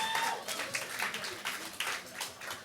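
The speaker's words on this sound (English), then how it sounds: "Yes, you can applaud to that too." Audience applause and scattered clapping at a justice celebration event, moderate in level and lasting a few seconds, with a voice faintly heard over the clapping.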